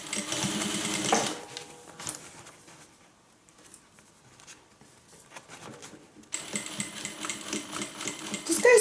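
Sewing machine stitching a seam on a fabric bag, a steady mechanical whir that runs at the start, pauses for a quiet stretch, then resumes at close range.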